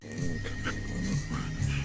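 A dog lying in the sun in a Polish garden pants close by in quick, rhythmic breaths, with slight whiny vocal tones.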